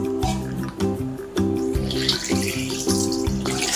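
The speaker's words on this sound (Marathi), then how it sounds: "आता हे जे बोंबील आहेत ते स्वच्छ पाण्यामध्ये धुवून घ्यायचे आहेत" Cleaned Bombay duck fish are rinsed under a running tap, and the steady splashing stream is broken by repeated rhythmic surges as the fish are moved and turned in the water.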